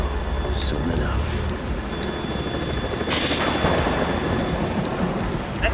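A helicopter in the Metal Gear Solid 2 video game produces a steady, loud rumbling drone with a low thudding rotor texture, while people talk over it.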